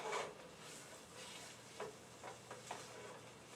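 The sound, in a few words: chicken stirred and sizzling in a pan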